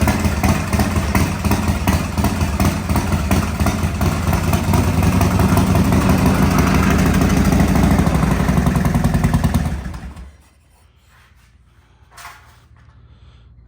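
An old Harley motorcycle engine runs loud and close with a steady, lumpy idle and rattling clatter, then shuts off abruptly about ten seconds in, leaving near silence.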